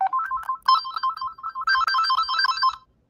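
A loud electronic phone ringtone plays a bright, repeating melodic pattern, growing fuller partway through before cutting off near the end.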